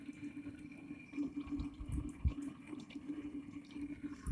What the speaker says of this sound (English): because it's dripping very fast